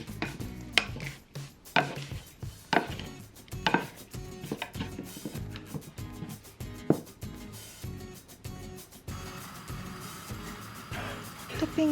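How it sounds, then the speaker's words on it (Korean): Korean melon and cucumber salad ingredients are pounded and mixed in a bowl, a series of irregular, fairly close dull thumps and clacks followed by softer rustling mixing sounds. "재료들을 가볍게 빻아서 소스가 배어들게 섞어주세요."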